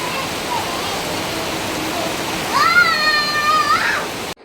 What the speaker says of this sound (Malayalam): ഇന്നത്തെ പോലെ തന്നെ മഴയോട് മഴ, പെരുമഴ.